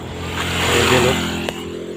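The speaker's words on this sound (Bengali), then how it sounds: "পিছন দিয়ে একটা পিছন দিয়ে একটা মোটর সাইকেল আছে" A motorcycle engine swells and fades as it passes nearby on a village road in rural Malaysia, a steady buzzing drone rising to a peak and then trailing off.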